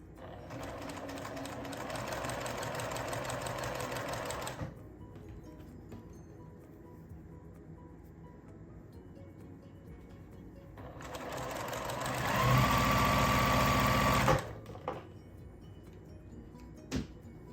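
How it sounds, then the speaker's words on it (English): A sewing machine runs in two long bursts of rapid, even stitching through a quilt block sewn on the diagonal, close and loud, with a quiet pause between runs and a brief click at the end. "And sew on the diagonal, trim away and press."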